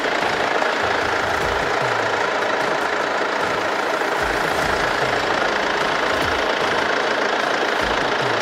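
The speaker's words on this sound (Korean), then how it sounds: "엔진 소리 일정하고 좋습니다" A Mercedes-Benz E-Class W212 E220 CDI diesel engine idles steadily up close, with a rough, even knocking rumble and no talking.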